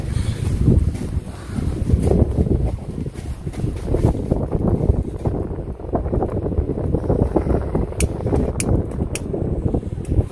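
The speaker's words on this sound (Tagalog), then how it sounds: "Hangin." Strong wind buffets the microphone in a continuous low roar, with a few sharp clicks near the end and no speech.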